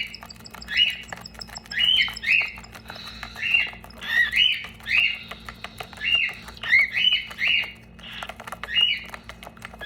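Baby birds about three weeks old squawking at feeding time, a series of loud, close, rhythmic begging calls repeating every half second or so over a faint background hum.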